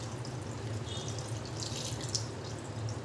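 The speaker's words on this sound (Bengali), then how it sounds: "ঠান্ডা জল দিয়ে ছানাটাকে এইভাবে 2-3 বার জল বদলে বদলে খুব ভালো করে ছানাটাকে ধুয়ে নেব" Freshly strained chhana, a soft cottage cheese, is washed in cold water, giving a faint, steady sloshing and trickling with light splashes throughout.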